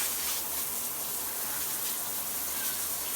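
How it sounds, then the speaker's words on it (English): A shower runs in a steady, even hiss of falling water, close and unbroken, with no voices. "Start my shower."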